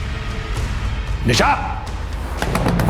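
Fist banging on a locked door in a tense domestic drama, a single burst of heavy thuds mid-clip with anxious voices talking around it.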